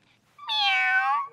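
A man imitates a cat with a single drawn-out meow, clear and close, rising and then falling, in an otherwise quiet moment.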